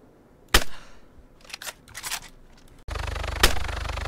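Gunfire in the video game DayZ: one sharp close shot, a few scattered fainter cracks, then a sudden loud buzzing hum with another sharp report over it.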